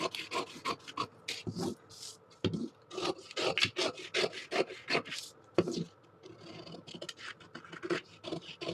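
Scissors cutting blouse fabric in a curved line at the armhole, repeated close rasping snips and scraping strokes in uneven bursts with short pauses between, fairly quiet.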